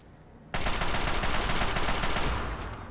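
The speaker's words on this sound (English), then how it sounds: "Looks like there's a turret going off" A turret opening fire in Fallout 3: after a brief quiet moment, a loud, rapid, sustained stream of automatic gunfire starts abruptly and keeps going without a break.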